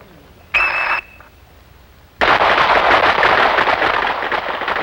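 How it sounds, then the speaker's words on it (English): Police handguns fire on an outdoor firing range during a 1983 Indiana State Police training course. One loud report is followed by a brief lull, then a sustained, dense roar of many shots overlapping from the line. "Ready on the firing line."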